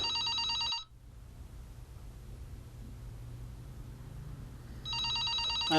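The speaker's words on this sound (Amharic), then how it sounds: "እሱ ስልክ ታነሺው የምጠብቀው ስልክ አለኝ" An office telephone rings in a loud electronic trill, one burst of ringing, a pause filled with quiet room hiss, then the ringing starts again.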